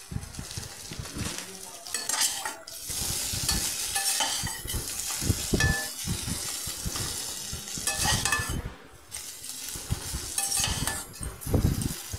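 Potatoes and peas scrape and clatter as they are stirred in a hot wok, with a steady sizzle underneath, close and fairly loud throughout.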